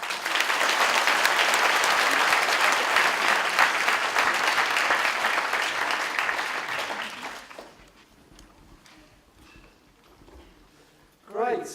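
A convention audience gives a plenary speaker a long, loud round of applause that holds for several seconds and then tapers off. A voice follows in a large room.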